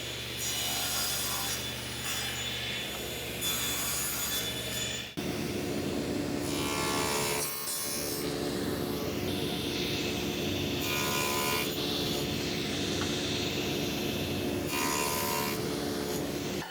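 A handsaw cuts wooden table aprons to length against a stop, a steady rasping stroke rhythm running in long passes with a brief break partway through, close and alone.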